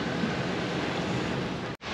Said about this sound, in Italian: Il vento ancora soffia